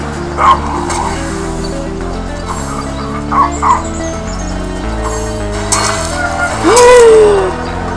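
A dog barks, yips and whimpers in Divinity Original Sin combat, several sharp barks scattered over game music and effects, with a rising whine near the end.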